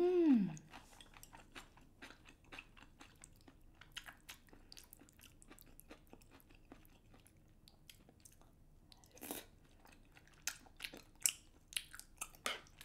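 Close-up, quiet mouth sounds of chewing soft, chewy spicy black bean rice cakes, with occasional brief squishy bites and a short vocal hum at the start.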